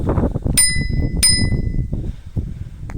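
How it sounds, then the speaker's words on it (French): A small bell on an electric balance bike rings twice in quick succession, bright metallic dings about half a second apart, over a low rumbling mechanical background. "la petite sonnette"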